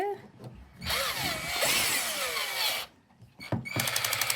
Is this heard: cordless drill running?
yes